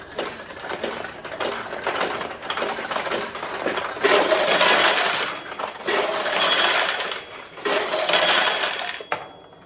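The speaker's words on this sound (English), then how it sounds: "you can go right up over the top and drop the balls in the upper hopper and continue to play" Steel balls rattle and clatter through a vintage 1973 Nishijin Model B pachinko machine, a dense metallic jangle that swells in several loud bursts over about ten seconds, close and without talk.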